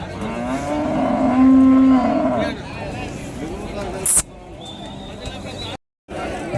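Native cattle moo loudly several times at a livestock market in Krishnagiri district, with a long low bellow near the start, amid faint background chatter and outdoor noise.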